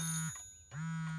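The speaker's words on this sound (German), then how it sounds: "ist das Absicht, dass die Uhr so komisch klingelt?" A newly built clock in a children's cartoon rings with an odd, comical tone: two loud sustained buzzing honks with a short gap between them, clear and alone with no talking.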